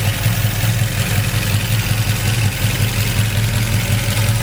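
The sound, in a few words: 1972 Pontiac Le Mans 389 engine idling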